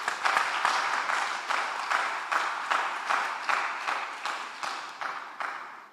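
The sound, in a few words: applause at a credit union general meeting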